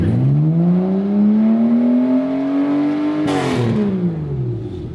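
A Subaru SVX engine revs through its exhaust, a loud, close, rising drone that climbs steadily in pitch, then drops off sharply with a brief burst of noise as the throttle is released.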